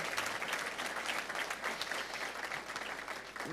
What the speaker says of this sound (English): A round of applause for me, please, for both Robert and Alyssa